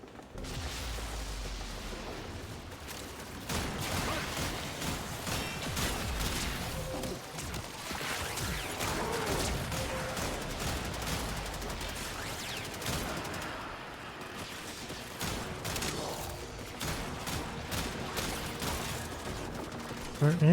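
Rapid bursts of video game gunfire crackle almost nonstop, dense and loud, with friendly fire on, while a voice talks intermittently over the shooting.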